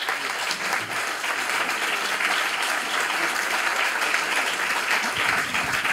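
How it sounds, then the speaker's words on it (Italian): An audience gives journalist Alan Friedman a round of steady, full applause, many hands clapping continuously at an even level throughout, with no voices breaking through. "Intanto io farei ancora un applauso a Friedman"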